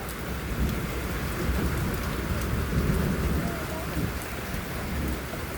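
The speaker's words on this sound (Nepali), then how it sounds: "पुरै लागेको अहिले यस्तो पानी पर्न थाल्यो" Heavy rain pours steadily during a thunderstorm under a dark sky, with a dense continuous hiss and low thunder rumble throughout, close and loud with no talking.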